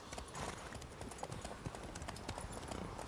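Horse hooves clip-clopping steadily in The Witcher 3: Wild Hunt, Blood and Wine, a brisk rhythmic gait of many quick hoof strikes, fairly close and moderately quiet, with no talk.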